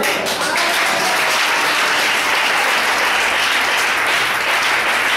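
A church congregation breaks into loud, sustained applause during a worship service, a dense wash of clapping that fills the room evenly from start to finish with no voices standing out.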